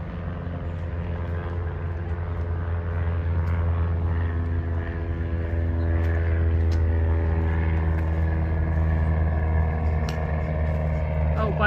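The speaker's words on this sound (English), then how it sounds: "this place is right near an airport, so you're probably gonna hear, but it's just for little planes, private planes and Q400s" Small propeller planes and Q400 turboprops near an airport by a Toronto waterfront park, heard as a steady, loud droning engine hum that holds through the whole stretch with faint background activity.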